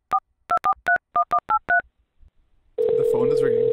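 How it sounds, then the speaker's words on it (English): Touch-tone keypad on an Xlite soft phone dialing a Vancouver number on a VoIP call: eight crisp dual-tone beeps in quick, uneven succession, a pause, then a steady loud call-progress tone starting near the end. "I will call a Vancouver number using the Xlite soft phone."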